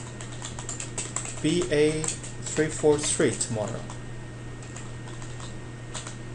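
Keys clatter on a computer keyboard as a short memo is typed into a note-taking app, a steady run of light clicks under someone speaking briefly, with a constant low hum beneath.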